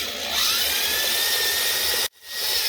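A power drill boring into a stripped lug bolt on a BMW wheel, a loud close high-pitched whine with grinding metal texture, briefly stopping before spinning up again.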